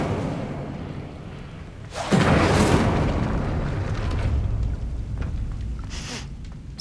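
A fire spell bursts into a loud booming explosion in Hogwarts Legacy, striking suddenly and then trailing into a long rumbling roar with scattered crackles.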